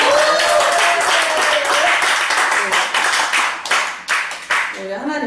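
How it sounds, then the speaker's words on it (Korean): Sustained clapping from a congregation at a Korean Christian praise worship service, loud and dense throughout before tapering into scattered claps near the end. "하나님께 영광의 박수 드리겠습니다."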